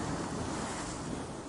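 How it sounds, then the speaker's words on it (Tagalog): Giant ocean waves crashing from a raging sea, a brief loud continuous roar of surf mixed with wind noise, no voices. "Hindi na mapigilan ang dambuhalang mga alon."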